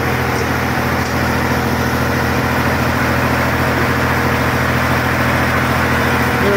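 Tractor engine running steadily in an orchard while spraying, a continuous loud low rumble with even hum throughout, no talking.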